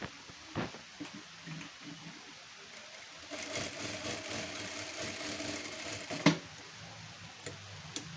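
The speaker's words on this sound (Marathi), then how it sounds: "आता ह्या साईडला पण आपण टीप मारून घेऊयात।" A sewing machine running a double stitch along the tucks of a garment, with a soft rapid clatter that builds midway and then continues as quieter, scattered clicks and handling noises.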